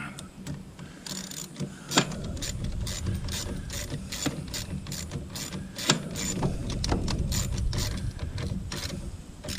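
A socket wrench ratchets steadily on a bolt fastening a mid-frame wind deflector heat shield, with rapid close clicking that runs throughout and a few sharper snaps as the bolt snugs up.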